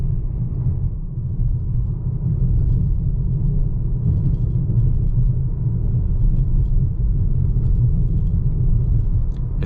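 2021 Volvo XC40 Inscription rolling over a rough, rutted road, a steady loud low rumble of tires and cabin noise with faint knocks from the bumps, no talking.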